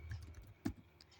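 A handful of soft, close keystrokes on a computer keyboard, one slightly sharper tap among a few faint ones, quick and brief, with no voices.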